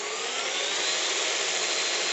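Kids ride-on toy jeep upgraded to 24 volts driving at full speed, a steady whining electric motor and gear drone, loud and close, constant for the whole stretch with no talk.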